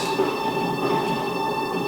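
Steady rumble and rattle of a moving train carriage in the video game Chase the Express, a continuous droning hum with faint metallic clatter, constant and close throughout.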